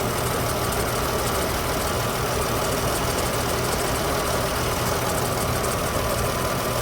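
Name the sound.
2013 Ram 3.6 V6 engine idling with a misfire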